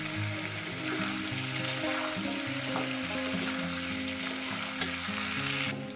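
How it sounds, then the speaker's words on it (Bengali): Masala for a fish curry with turmeric sizzles steadily in a hot pan, a close, continuous frying crackle with stirring scrapes, and no voices. "আমি এটাকে কষিয়ে নিয়ে ভেজে নিয়েছি"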